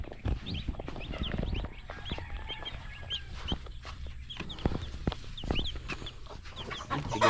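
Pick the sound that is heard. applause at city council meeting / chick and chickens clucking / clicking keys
chick and chickens clucking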